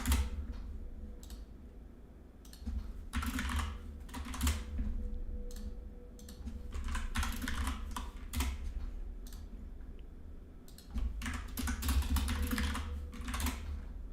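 Typing on a computer keyboard while solving coding puzzles: steady bursts of close, crisp key clicks with brief pauses between runs, alone without talk.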